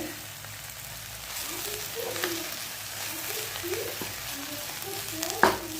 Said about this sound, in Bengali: রুটিটা খুব সুন্দর ভাজা হয়ে গেছে।